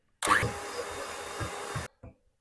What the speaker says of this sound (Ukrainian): тепер міксером збиваю до піни